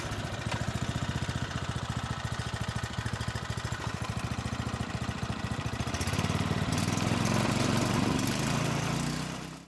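A small engine on a student-built competition vehicle starts and runs, its fast, even putter loud and close, then the note rises and roughens as it revs, with no talking.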